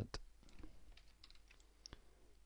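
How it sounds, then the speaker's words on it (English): Computer keyboard keys are pressed during 3D sculpting work, giving a few sharp, close clicks scattered irregularly over a faint quiet background, with no voices. "So I'm hitting keyboard Z"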